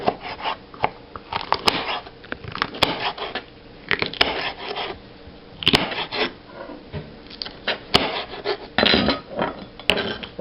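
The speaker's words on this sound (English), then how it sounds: "These beautiful Anaheim chili peppers I'm going to cut." A knife slices Anaheim chili peppers on a cutting board, giving steady close scraping and tapping strokes with irregular sharp knocks against the board.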